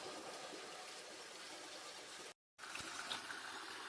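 Water is filled by hand at a Kumaoni mountain spring, a steady splashing trickle that cuts out briefly and resumes, with no voices.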